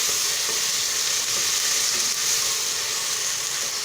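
Onions and tomato frying in a pan, a steady, close, loud sizzle with crackling that stays even throughout, no talk.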